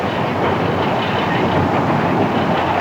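A 1970s Australian overnight passenger train with sleeping compartments rolls steadily along the rails, giving a loud, continuous rumble with faint clickety-clack throughout.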